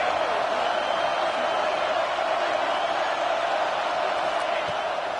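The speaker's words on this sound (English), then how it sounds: "Decibels rising as the crowd gets behind this defense on third down" Stadium crowd in the College Football 26 video game, a steady loud roar of cheering on third down that holds without pause throughout.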